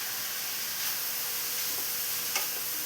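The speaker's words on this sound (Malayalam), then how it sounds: "8 സവാള സ്ലൈസ് ചെയ്ത് വെച്ചതാണ് ചേർത്ത് കൊടുത്തിട്ടുള്ളത്. ഇതെല്ലാം കൂടെ നന്നായി ഒന്ന് വഴറ്റിയെടുക്കാം." Sliced onions sauté in a pan for a prawn biryani, a continuous close sizzle and hiss with a couple of faint stirring clicks, steady and without speech.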